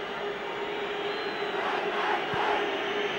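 A large football stadium crowd at a 2002 Euro qualifier between Wales and Italy makes a constant loud roar that fills the whole stretch, with a commentator faintly audible beneath it.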